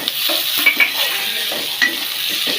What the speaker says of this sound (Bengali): এবং টমেটোগুলো ভেজে নিতে হবে।